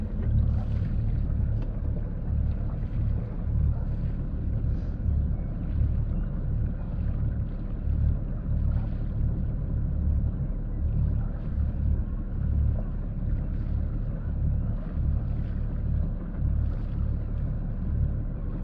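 Boat motor leaving Vibo Valentia port, a continuous low droning rumble with steady pulsing engine throb and wind over the microphone, no talking.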